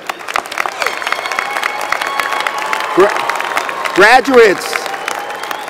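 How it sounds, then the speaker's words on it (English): A graduation audience at a university winter commencement claps in a steady wash, while a speaker's amplified voice calls out over it a couple of times. "let's hear a round of applause for them."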